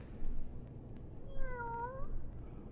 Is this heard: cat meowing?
yes